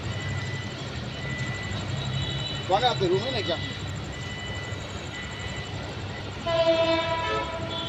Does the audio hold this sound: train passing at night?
yes